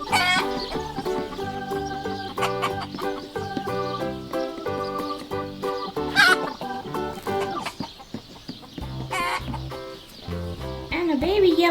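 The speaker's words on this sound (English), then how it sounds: "This is a brown chicken." A Fisher-Price barn toy plays electronic chicken clucking and crowing sounds over a bright tinkly toy melody, with a voice speaking at times.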